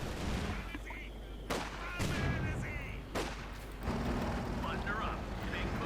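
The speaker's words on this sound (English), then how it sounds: "A lot of mortar fire." Mortar and artillery fire in Company of Heroes 2, a 1v1 match, with several heavy booming impacts and gunfire bursts layered over dense battle noise and a commentator talking throughout.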